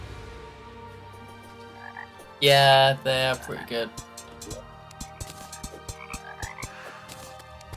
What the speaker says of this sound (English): Oh, I love the sound of the frogs.